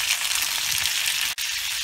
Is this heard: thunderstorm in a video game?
no